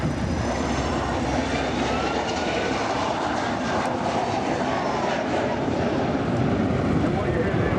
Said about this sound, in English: what you heard there was the sound of large turbofan engines